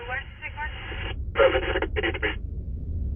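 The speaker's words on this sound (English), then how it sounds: "Sometimes the radio calls get broken up like that depending on the browser." Chopped, band-limited police radio transmission that cuts in and out in bursts, with dropouts between fragments of talk, heard near and moderately loud over a low background hum.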